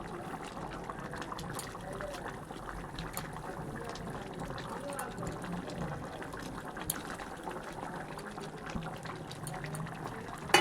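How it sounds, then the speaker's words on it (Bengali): A pot of bhola fish curry simmers with fresh coriander and green chilli nearby, a faint, steady bubbling and trickling burble that goes on evenly, with a soft voice talking at times. "তো দেখো মাছটা ফুটছে"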